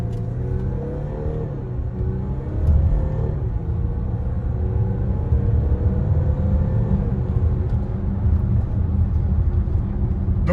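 An Audi Q7 with 517 hp launches hard using launch control, its engine note climbing steadily in pitch as it accelerates with a deep, continuous roar and rumble, loud and close, with no talking.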